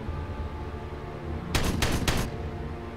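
Gunfire in the strategy game Warhammer 40,000: Regicide: a tight cluster of three or four sharp, loud bursts of shots over a low ambient hum, then back to the hum.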